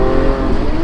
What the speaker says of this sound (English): oh my God, it downshifts.